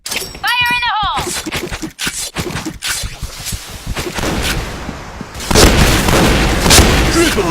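Grenade explosion in the first-person shooter Point Blank, shotgun mode on the Burning Hall map: sharp game gunshots and a short voice line come first, then a loud, long booming blast rolls through the second half.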